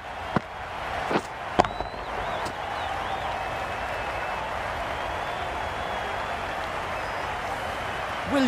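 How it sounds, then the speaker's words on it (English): Stadium crowd in the cricket video game Cricket 22 during a T20 match, a steady dense roar of cheering and applause filling the whole stretch, with a few sharp knocks early on. "Will you listen to the crowd? They are loving it."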